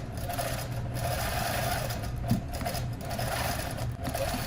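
A ProStitcher longarm quilting machine sews a straight line along the bottom of a quilt, humming steadily with a fast mechanical stitch rhythm, close and continuous without talk.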